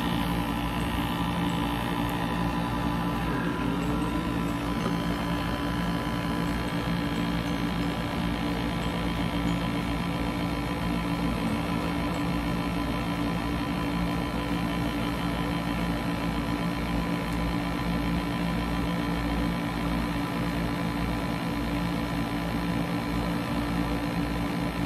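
A small motorized blackhead vacuum remover runs with a steady electric hum and buzz, unchanging throughout, close and fairly loud with no voices.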